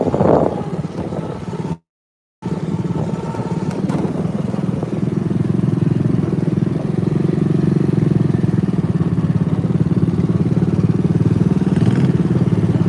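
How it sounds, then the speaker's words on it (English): A John Deere riding mower engine fitted with a Harley muffler gives a steady, fairly loud low drone with constant wind buffeting. It cuts out briefly near the start, then runs evenly to the end. "This engine, it's either too loud or too quiet."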